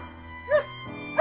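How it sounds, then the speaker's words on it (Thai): Dog barking, a single sharp bark midway and another at the end, close and fairly loud against a musical background within a story of a faithful Akita waiting outside a mansion gate in Shibuya. "ไม่ว่ามันจะเห่าสักเท่าไหร่"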